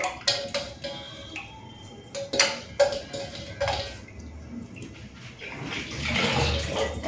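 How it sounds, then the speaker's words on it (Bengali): A tomato is rinsed in water in a home kitchen while lentils are being cooked. Scattered light taps and clicks come first, then a soft, close splash of running water near the end. "একটা টমেটো ধুয়ে দিয়ে দিচ্ছি ডালের মধ্যে"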